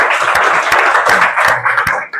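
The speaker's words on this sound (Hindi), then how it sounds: "तालियां बजाइए इसके" Children applauding together: brisk, uneven claps heard up close, fading out at the end.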